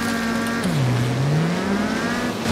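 Car engines revving in the Wreckfest racing video game: a loud, continuous engine drone that dips and climbs in pitch as the cars accelerate, with a dense layer of other engines behind it.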